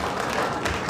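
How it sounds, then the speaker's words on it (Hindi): Audience at a Veda school consecration festival clapping along to singing, a steady wash of applause at moderate level with faint voices mixed in. "ये ताली बजाने कर आप लोग"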